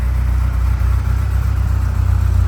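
A 1980 Ferrari 308 GTSi engine idles steadily with a low, even, throbbing pulse. It sits close and loud, with no one talking over it.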